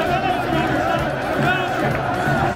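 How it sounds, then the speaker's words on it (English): A stadium crowd at a soccer match in Baghdad celebrates a penalty, a dense, steady roar of cheering and babble from many voices that holds loud and continuous throughout. "everybody was just celebrating a UAE penalty"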